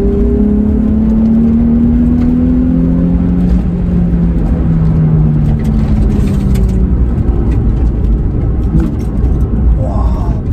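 A Nissan 350Z engine accelerates hard, a loud, close roar with rising tones that climb through the revs, a brief dip between pulls, then another surge.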